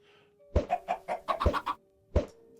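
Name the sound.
chickens clucking in the video game Minecraft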